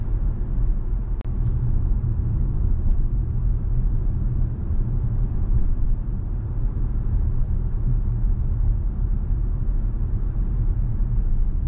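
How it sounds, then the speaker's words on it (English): Steady low road rumble fills the cabin of a 2022 Subaru Ascent at driving speed, with a faint hiss from the running heating and air system, continuous and even with no talking. "let's take a minute of silence and just listen to the road noise"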